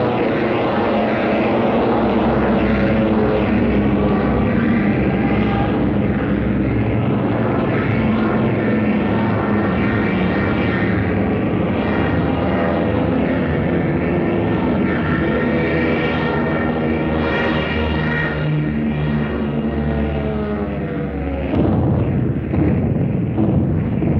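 Propeller-driven fighter planes drone over the English Channel during the Battle of Britain, a loud, steady, dense engine roar that keeps up throughout with no voices.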